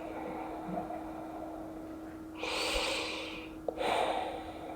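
Slow, audible breaths during a yoga pose, a soft airy exhale swelling then fading, followed by another breath, close and quiet over a faint steady hum.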